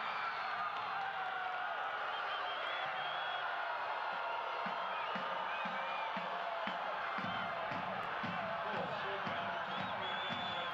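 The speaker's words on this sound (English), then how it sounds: "Listen to this fan base behind goal." Partisan soccer crowd behind the goal roars steadily after a Las Vegas Lights FC goal against Phoenix Rising FC, a dense continuous wall of cheering and whoops with rhythmic chanting or clapping pulses emerging near the end.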